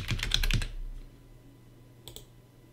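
Quick bursts of typing on a computer keyboard, a dense run of clicks for about half a second, then a short pause and a brief second flurry, close and clear with no talking.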